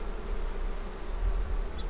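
A steady, dense hum of many honeybees buzzing close by on a hive frame of capped brood, continuous and unbroken throughout.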